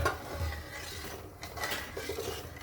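Half a bowl of sugar tipped into milk reducing in a pot for matka kulfi, soft clinks and scraping stirs of a utensil against cookware, faint and close, with no talk over it.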